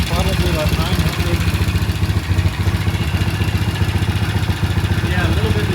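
A Norton motorcycle engine idles at around 900 RPM, a close, loud and steady mechanical thumping with a regular beat throughout while someone talks over it.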